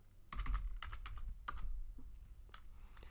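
Fingers type a command on a computer keyboard, a quick close run of crisp key clicks with a few heavier taps and short pauses, no voices.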